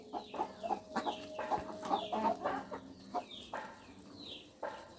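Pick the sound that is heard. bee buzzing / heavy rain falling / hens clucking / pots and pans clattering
hens clucking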